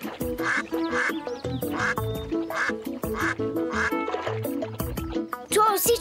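Farmyard ducks quack repeatedly in an animated French cartoon, with rhythmic nasal quacks over a bouncy musical backing, close and loud.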